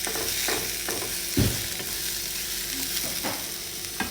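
Mushrooms frying in a pan with onions in burger fat, a continuous sizzle broken by several spatula scrapes and knocks, one louder thump early on, close with no talk.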